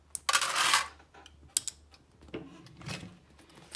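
Sewing machine stitching along the folded edge of a handbag, a short burst of whirring mechanical running followed by clicks and taps of the machine and fabric handling, close up with no voices.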